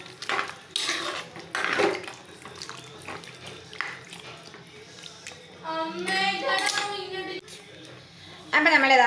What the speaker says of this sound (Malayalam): അപ്പം നമ്മൾ വെള്ളം ഒഴിച്ചു കൊടുത്തിട്ട് ഒന്ന് നന്നായിട്ട് ഇളക്കി കൊടുക്കുന്നുണ്ട്.